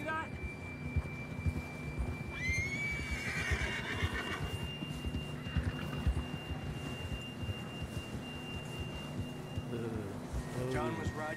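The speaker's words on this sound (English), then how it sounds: "John was riding that horse when we left Blackwater." A horse whinnies in Red Dead Redemption 2 in a high mountain setting, a rising and falling neigh in the middle of the clip, surrounded by steady in-game ambience and a sustained tone.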